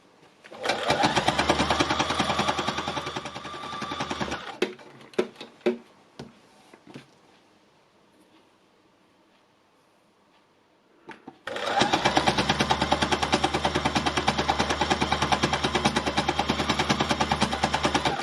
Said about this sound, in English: as you layer fabrics up, you'll start to get a denser fabric going on underneath these needles